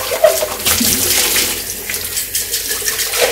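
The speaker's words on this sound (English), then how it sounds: "Run the water inside thoroughly." Tap water runs through a baby bottle during rinsing, a close, steady splashing gush with slight changes as the flow hits the plastic.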